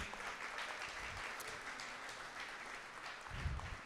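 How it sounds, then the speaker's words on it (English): Quiet, distant round of applause from the audience at a visual storytelling summit, a steady patter of clapping that holds evenly, faint and roomy. "And I would like for a round of applause for that."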